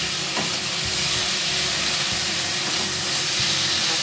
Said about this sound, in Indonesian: Kita aduk seperti ini.